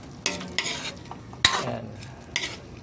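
Small shrimp and string beans sauté in a pan, with a spatula stirring and scraping in three or four quick strokes over a soft background sizzle, up close and without talk.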